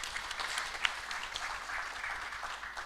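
Continuing applause from the conference hall audience in Mombasa, Kenya after a poet's piece, a soft, even wash of many clapping hands heard from some distance.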